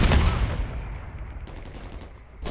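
Gunfire in a Call of Duty battle: a loud burst of shots right at the start, then a rumbling decay with scattered fainter distant shots trailing behind.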